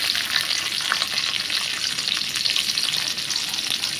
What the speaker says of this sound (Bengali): সব কিছু দিয়ে একটু সুন্দরভাবে নেড়ে নিব